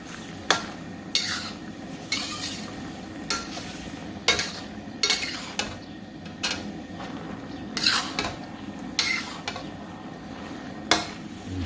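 Drunken noodles with soy, fish and oyster sauce being stirred in a hot pan, a steady sizzle under repeated sharp scrapes and clanks of a utensil against the metal at an uneven rhythm.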